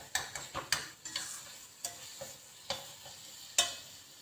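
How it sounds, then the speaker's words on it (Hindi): Spice masala roasting in ghee for maash daal, with scattered scraping stirs and soft frying sizzle, a series of close clicks and scrapes at an irregular pace. "इसका हम मसाला थोड़ा सा भुनेंगे ताकि घी छोड़ दे"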